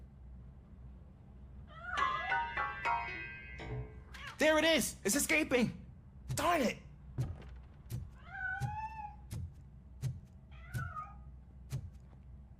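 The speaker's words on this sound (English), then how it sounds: "That cat must be hiding inside." A cat meowing in a video game, with several clear, separate meows that rise and fall. A player speaks excitedly in between, and a thud is heard near the end.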